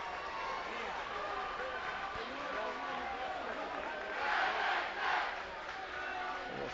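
Rambunctious crowd of Panthers fans at a Norfolk vs Omaha Burke basketball district final, a steady loud roar of voices and cheers that swells twice in brief louder bursts near the end.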